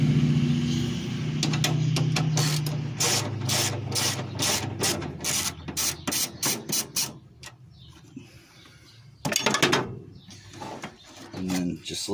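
A 12mm socket on a ratchet clicks in quick bursts while removing the radiator bracket support on a 1998 Subaru Legacy 2.2 L, sharp close ratcheting strokes with pauses between runs.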